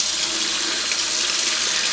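Cold tap water runs steadily and loudly into a bowl for a teriyaki brine, a constant close hiss and splash throughout with no talk.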